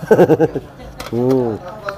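Pigeons coo nearby in a short burst of low, throaty warbling calls.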